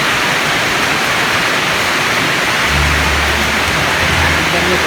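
Rain falls steadily as a dense, even hiss of heavy downpour, loud and constant throughout, with a low rumble joining partway through.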